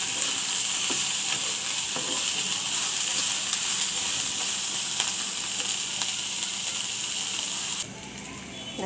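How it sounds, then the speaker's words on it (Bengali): Onions and chillies fry in hot oil in a pan, giving a steady, even sizzle that stays close and constant, with a brief shift in tone near the end. "এখন আমি মরিচগুলো ভেজে নেব। পেঁয়াজ মরিচগুলি ভেজে"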